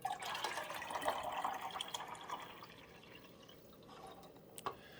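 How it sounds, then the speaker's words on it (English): Fresh tap water pours into the reservoir of a Keurig K-Express Essentials coffee maker, a close splashing fill that tapers off midway, ending in a few faint drips and one small knock. "here I've got my fresh water. I'm going to dump it in."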